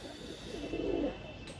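A single soft coo from a white pigeon resembling a Dobaz breed, low and brief, faint against quiet background hiss.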